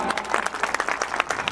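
Dense, lively clapping from the audience at a village school's annual gathering, steady and fairly close throughout with no talk over it.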